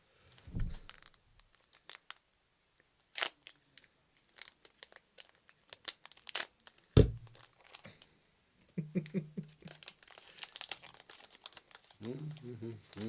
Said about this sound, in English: We can do a rapid fire of you just zipping the top of them off.